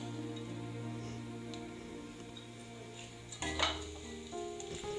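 Spoon stirring about 200 grams of jaggery in a pan over a low flame, soft scraping and faint sizzling with a brief louder scrape of metal partway through.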